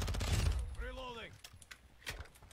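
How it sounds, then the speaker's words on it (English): A soldier's weapon is reloaded in Call of Duty, a quick run of metallic clicks and clacks heard close up under game sound and a brief voice callout. "Reloading"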